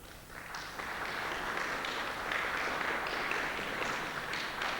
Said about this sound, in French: je vous demande de l'applaudir, Monsieur Gendron